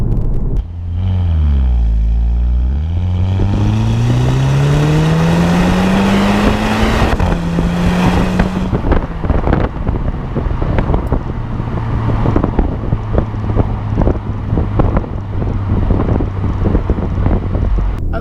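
A VW Golf GTI Edition 35 pulls hard through the gears, its engine and exhaust note rising steadily before a shift, then droning on under heavy wind buffeting.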